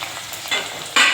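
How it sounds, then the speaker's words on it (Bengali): Cut potatoes sizzle in hot oil in a wok as they fry toward a reddish brown, a steady hiss that swells into a louder burst near the end, with no talking. "আলুটা একটু লাল লাল করে ভেজে নেব"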